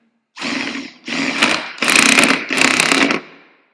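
A pneumatic impact wrench is used while a tire is removed from a rim. Four loud bursts of whirring hammering follow each other with brief pauses, close by and without speech.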